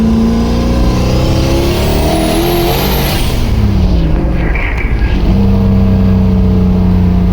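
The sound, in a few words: race car engine revving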